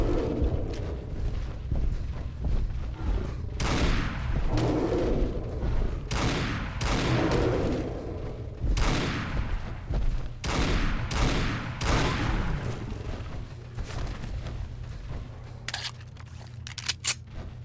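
Gunfire from Kellogg's pistol in Fallout 4, a series of sharp, loud game shots in irregular bursts, some rapid and clustered, others spaced apart, fading to quieter ambience near the end.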